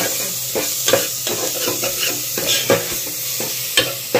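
Black salt being stirred into food in a pan: a spoon scrapes and turns the mixture in repeated strokes over a steady close sizzle, with no voices.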